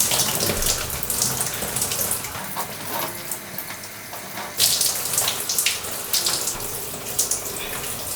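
A tap runs steadily as long hair is rinsed beneath it, with a continuous near hiss of flowing water and shifting splashes as the stream hits the hair, and no talking.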